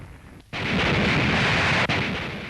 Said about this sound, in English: Then the force opened fire on its targets, one of which was the island of Watje